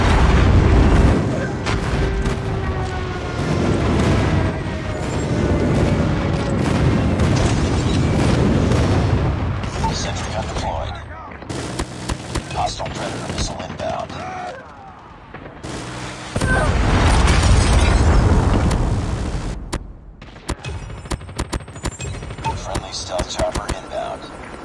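Airstrike explosions and heavy booms rumble through a Call of Duty match, loud and repeated, with bursts of gunfire between blasts and brief gaps of quiet.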